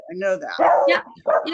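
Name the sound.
dog barking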